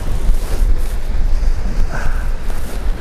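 Cold wind blusters steadily at sea near Chujado island during fishing, a loud continuous rush and rumble over the microphone with surf-like washes underneath, no talk.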